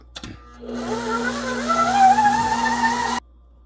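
An electric mixer runs on third speed, kneading sour cream dinner roll dough in a bowl: a steady, close motor whine with a rising pitch that cuts off abruptly after a few seconds.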